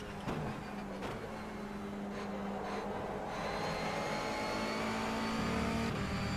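Race car engine on a hot lap in rFactor 2, a Fantasy NGTC touring car round: a steady, loud engine drone with rising pitch through the gears, short shifts near the start, and no talking.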